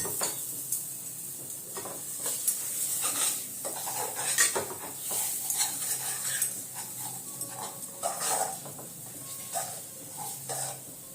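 Dhokar dalna stirred in a pan, with repeated spatula scrapes and clinks against the metal over a low sizzle, close and steady for several seconds.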